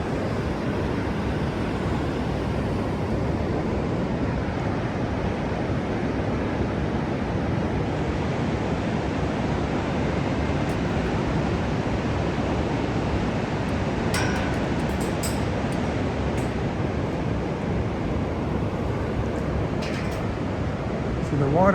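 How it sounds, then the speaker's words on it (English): Steady broadband roar of water plunging over 200 feet into the creek inside Box Canyon near Ouray, Colorado, continuous and full throughout, with faint voices beneath it. "I can hear the waterfall."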